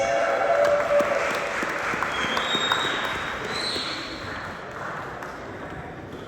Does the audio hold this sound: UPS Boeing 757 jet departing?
no